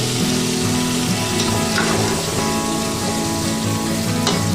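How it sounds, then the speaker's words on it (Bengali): Onion and tomato sautéing in oil in a pan for a small fish curry, giving a loud, continuous close-up sizzle and crackle with a steady, dense texture throughout and no talking. "এদিকে পেঁয়াজ আর টমেটোটাকে আমি ভালো করে একটু সাতলে নেবো"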